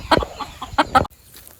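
A few sharp clucks from a native country chicken in quick succession, close and fairly loud, then a sudden drop to quiet.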